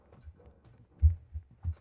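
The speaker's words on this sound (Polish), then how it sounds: "Tutaj słyszę bicie serca." In the secret room of a Roblox horror game, a muffled heartbeat thumps low and slow, with a few soft beats followed by stronger double pulses, alone and fairly quiet.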